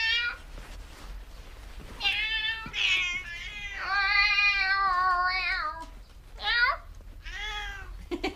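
A house cat meows repeatedly, a series of drawn-out, tonal cries close by and fairly loud, with short gaps between calls.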